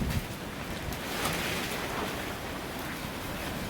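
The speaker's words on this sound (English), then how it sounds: "It's too windy." Strong gusting wind roars steadily against the microphone outdoors during a storm with gusts near 90 mph around a portable car garage, a constant broadband rush with no talking.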